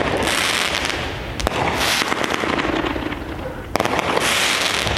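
Firework cake, Red Apple Fireworks 2018 Avalanche 16-shot, going off outdoors with a dense rolling crackle and sharp bursts, loud and continuous across the whole stretch.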